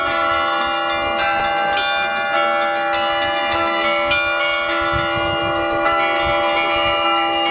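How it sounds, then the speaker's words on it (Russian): Church bells of Rostov Veliky peal continuously in the evening, their ringing tones overlapping and sustained, loud and close with no voices. "Вечерний Ростов встретил нас колокольным перезвоном."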